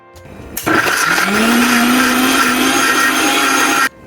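A mixer grinder whirs loudly and steadily, grinding cashews with powdered sugar for kaju katli; the motor spins up, holds an even roar for about three seconds, then cuts off abruptly.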